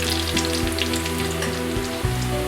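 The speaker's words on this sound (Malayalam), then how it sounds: "ലൈറ്റ് ബ്രൗൺ ആകുന്നത് വരെ ഈ ഉള്ളിയും വെളുത്തുള്ളിയും കരിവേപ്പിലയും വഴറ്റുക." Onion, garlic and curry leaves sauté in a pan for a Kerala plantain stir-fry, giving a steady close crackling sizzle over a low hum.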